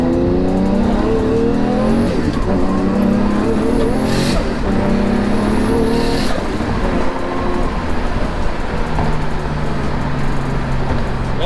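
A car accelerates hard through several gear shifts on a night pull, engine roaring loud and close from inside the cabin, the pitch climbing in steps after its shifter housing gasket was replaced.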